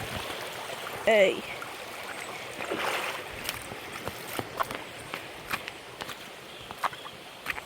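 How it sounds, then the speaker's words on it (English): Feet wade through shallow water on a forest path, close sloshing steps under a steady stream-like wash, with a brief shout near the start. "we're going through the water this time."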